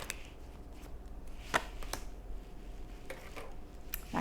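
Tarot cards being shuffled, quiet papery riffles and soft taps spread through the clip with a few sharper snaps standing out.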